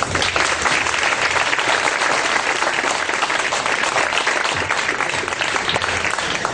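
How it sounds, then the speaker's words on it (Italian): Dense, steady applause fills an outdoor election rally hall, many hands clapping evenly and loudly throughout with no voices standing out. "l'applauso deve essere il più forte"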